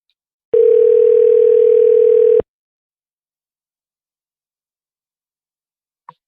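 Telephone dial tone on a call, a loud steady pure tone held for about two seconds before cutting off into silence, followed by a faint click.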